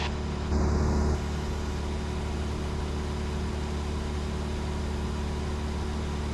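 Steady drone of a Beechcraft Bonanza 36 piston engine heard from inside the cockpit, a constant low hum with a brief louder burst near the start and no talk.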